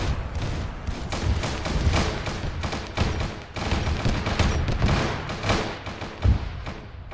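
Anti-tank weapon firing and exploding in the Arma 3 video game, within a dense battle soundscape of continuous gunfire, thuds and booms, with a sharper blast near the end standing out over the loud, unbroken combat noise.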